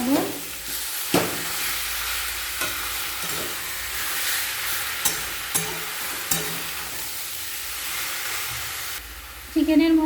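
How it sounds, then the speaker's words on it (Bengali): Chicken mince is stirred in a hot pan, giving a steady loud sizzle and hiss broken by sharp spatula scrapes and knocks, close up with no talking. "এরপর নাড়াচাড়া করে চিকেন কিমাটা ভালোভাবে রান্না করে নেব।"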